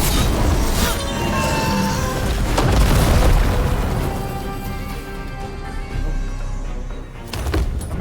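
Heavy booming blasts roll out from a detonation in the Dragon Age: The Veilguard video game. Several thuds and crashes sound over a dense, loud game soundtrack with no talk.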